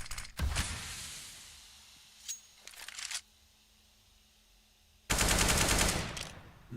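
Counter-Strike: Global Offensive gunfire during a competitive esports match, two loud sustained automatic bursts with a few scattered shots between, heard alone without talk.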